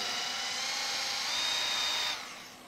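A power polisher buffs car paint that has been wet-sanded to 3000 grit, giving a steady high whine for about two seconds before it winds down, with no talking.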